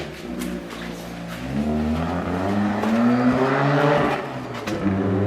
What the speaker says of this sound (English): Sounds like a rotary to me.